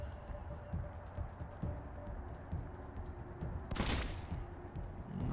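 Gunfire from the video game Wasteland 3 comes as a string of faint, evenly spaced pops, then a brief, louder blast of noise toward the end.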